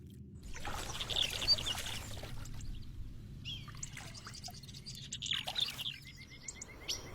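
Birds gather at a forest waterhole before sunrise, with scattered chirps and short calls over a faint trickle of water in a quiet, open setting.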